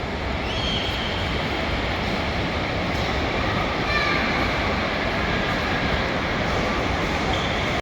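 Aircraft at Suvarnabhumi Airport in Bangkok, heard from a plane-spotting point. A loud, steady, broadband jet roar fills the whole stretch without a break.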